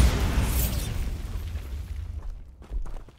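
Bombarda explosion spell in Hogwarts Legacy, a loud burst and boom that rumbles and fades, then a smaller thud and some debris-like clatter near the end.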